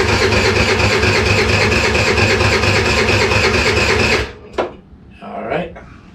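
An Ice Bear scooter engine cranks on the start button with a loud, steady, rapid churning for several seconds, then cuts off, followed by a few brief knocks and rustles.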